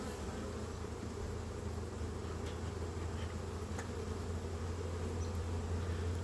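Honey bees drone steadily on an open hive frame, a dense continuous buzz close by with no breaks, even in loudness throughout.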